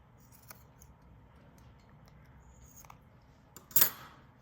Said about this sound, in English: These hanging out things, I'm going to cut those off.